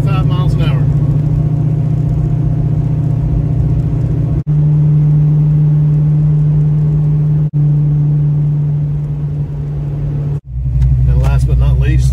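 A Fox Body Mustang with a FlowMaster muffler cruises at 55 mph, giving a loud, steady low exhaust drone and road rumble inside the cabin, broken by a few brief dropouts, with a voice speaking briefly at the end.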